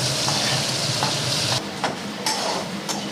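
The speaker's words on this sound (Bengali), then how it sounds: "আলু ভাজা চলছে।" Steady crackling sizzle of potatoes frying in hot oil, with a few brief scraping stirs of a spatula; no voices.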